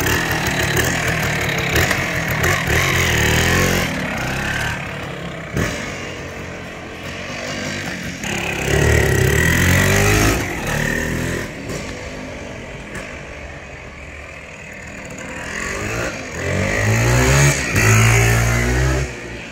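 Kawasaki 350 Bighorn enduro two-stroke rotary-valve engine running close by, blipped and revved in uneven surges that rise and fall over a steady idle, with no voices.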